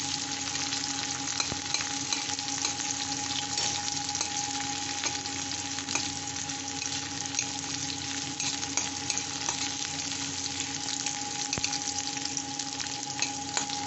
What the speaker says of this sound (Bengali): মিডিয়াম আঁচে রান্না করছি।